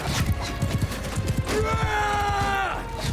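A horse in the medieval battle game Mount & Blade II: Bannerlord pounds along in rapid hoofbeats, then lets out a loud, drawn-out whinny amid the noise of battle.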